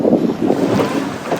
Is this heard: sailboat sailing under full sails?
yes